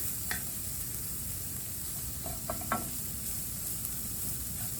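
Carrots frying in a pan for carrot fried rice, a steady soft sizzle throughout with a few brief clinks and stirring scrapes from the pan.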